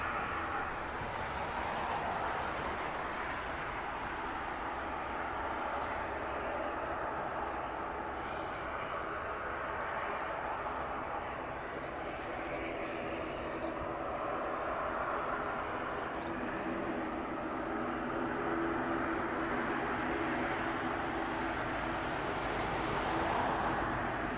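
Civil aircraft at East Midlands Airport, a steady broad engine roar that holds for the whole stretch with slow swells, heard from a distance and fairly loud, with no voices over it.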